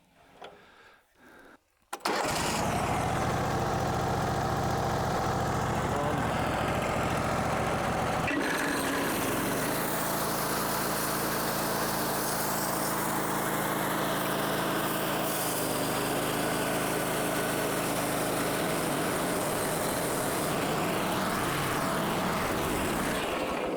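A sawmill cutting a log into lumber runs with a steady, loud engine drone and saw noise that kicks in abruptly after a brief quiet start and continues unbroken for about twenty seconds.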